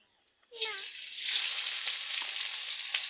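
Chopped onions hit hot oil in a pot of chickpeas and burst into a loud, steady sizzle that holds without a break.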